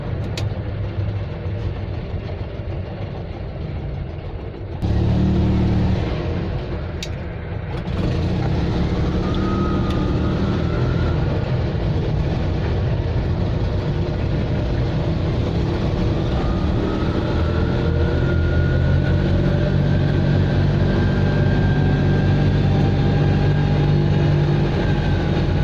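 An Invacar three-wheeler drives on the road, its small engine droning loudly and steadily throughout with a brief surge of roar around the five-second mark and constant road and wind noise inside the cabin.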